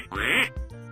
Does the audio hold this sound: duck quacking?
yes